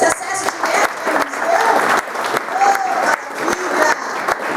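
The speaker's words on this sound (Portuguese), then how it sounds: "Você pode aplaudir ao Senhor por esse acesso direto que Ele" A church congregation applauds during a Portuguese-language sermon, a dense wash of clapping that swells and ebbs in waves, with scattered voices and exclamations mixed in.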